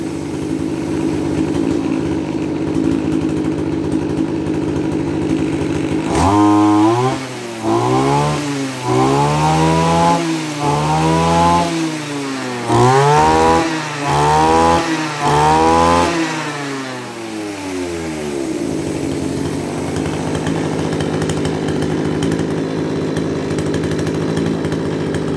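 A Kawasaki TJ27 27cc two-stroke brush cutter with a 34 mm bore idles, then revs hard in a series of rising and falling bursts before settling back to idle, loud and close with no talking.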